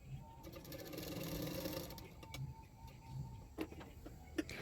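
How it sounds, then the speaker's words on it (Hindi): Sewing machine stitching along the folded-back neck edge of a blouse, a soft continuous whirring hum at low level, with a few faint clicks toward the end. "उसको पीछे की तरफ मैं फोल्ड करते हुए सिलाई कर रही हूँ"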